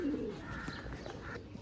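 Pigeons cooing softly and close by in a brief low burble, with faint background noise and no talk.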